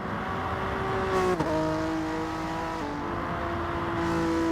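A racing car's engine in a motor-racing video game, revving hard in a sustained whine with quick shifts in pitch, close and loud the whole time.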